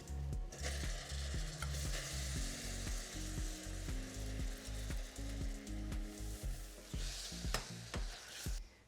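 Grated apple simmers in a honey caramel in a pan, giving a steady bubbling sizzle with repeated scraping strokes of stirring throughout, close and fairly even, with no talk.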